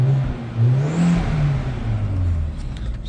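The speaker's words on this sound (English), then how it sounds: "She's got a whistle to her too. That's that turbo, right?" A 2005 Audi A4 Quattro engine is briefly revved with light throttle, rising and falling through a few close, loud swells with a faint turbo whistle on top, alone without talk.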